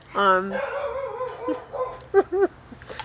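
Nearby dog howls long and tonal, then breaks into a few short yips and barks, with a person's voice audible alongside.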